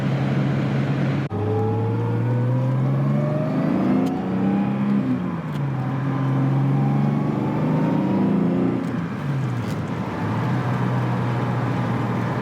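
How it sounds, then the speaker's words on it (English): A Jaguar E-Type accelerates hard, its engine note climbing steadily through the revs in a long, loud, continuous run from close by with no talking. "There's enough power there, you can see as you squeeze the accelerator, the front just lifts up and it just feels nice."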